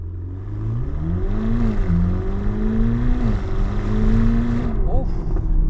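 A 2026 Chevrolet Corvette ZR1, rear-wheel drive, pulls hard with a loud, steady engine roar whose pitch climbs through the gears. Close and continuous, with a brief gear-change dip before the tone rises again.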